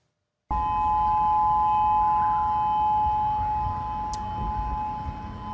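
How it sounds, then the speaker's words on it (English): A tsunami warning siren in Hawaii starts abruptly and holds a loud, steady, unwavering wail that slowly fades a little toward the end. "in Hawaii that is definitely a tsunami warning siren"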